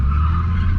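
An AU Ford Falcon drifts at Archerfield Drift Park with a beginner driver, a short, loud and close burst of engine roar and skidding tyres.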